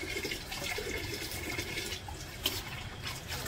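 Water runs from a village tap in a steady, fairly soft splashing stream that continues unbroken, with no talk over it.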